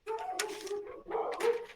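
Dogs give a short burst of excited barks and whining yips, close and fairly quiet, in two quick clusters.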